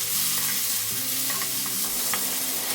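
Garlic ginger paste fries with onion and tomato in a pan for a Bengali snakehead fish curry with potato: a steady close sizzle broken by stirring scrapes, with no voices.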